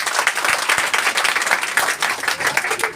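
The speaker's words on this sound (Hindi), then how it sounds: "तालियां होनी चाहिए" A class of students applauds a classmate being awarded in a tenth-grade maths lesson, with dense, loud, continuous clapping that fills the room for three seconds.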